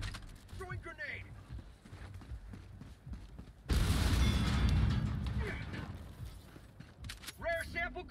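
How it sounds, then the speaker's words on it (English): A grenade goes off in Helldivers 2, a sudden loud burst midway that rumbles and decays over a few seconds, with mechanical clatter and a voice talking before and after it. "Throwing grenade."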